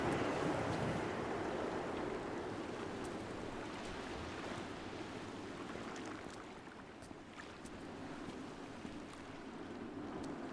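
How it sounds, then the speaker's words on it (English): Ocean surf rolls in the video game Dear Esther, a continuous wash of waves mixed with gusting wind, fairly faint and without voices. "For this storm brewing and for the wind, the waves seem pretty calm."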